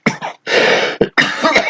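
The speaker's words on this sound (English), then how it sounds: "sorry for that coughing." A short fit of loud, close coughing: several harsh bursts in quick succession with brief pauses between them.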